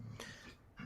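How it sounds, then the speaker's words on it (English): A small dog, a puppy, gives two short throaty huffs or snorts about half a second apart, close and fairly soft, in a quiet indoor room. "You can hear my dog."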